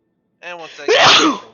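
A single close sneeze, a sharp burst following a quick intake of breath, with someone talking over it.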